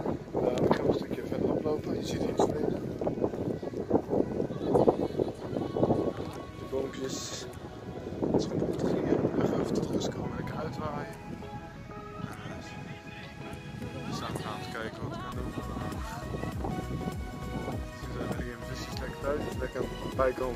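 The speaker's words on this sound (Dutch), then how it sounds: "Maar het is in ieder geval heel winderig." Strong outdoor wind buffets the microphone in loud, uneven gusts, with a person talking throughout.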